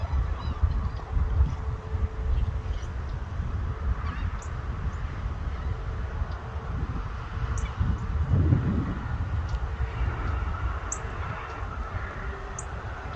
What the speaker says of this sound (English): But look at all the seagulls.